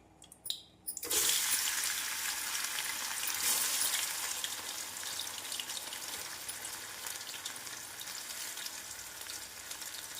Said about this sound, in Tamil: எண்ணெய் காயவும் வெண்டைக்காயை சேர்த்து விடலாம்